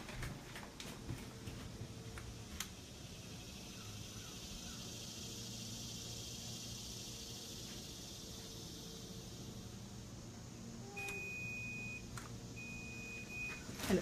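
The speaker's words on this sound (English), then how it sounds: "you hold it up and it'll beep when it's finished, and it gives me an instantaneous reading" Handheld environmental testing reader gives short electronic beeps when its reading finishes, two clear tones near the end over a faint, quiet indoor background with scattered clicks.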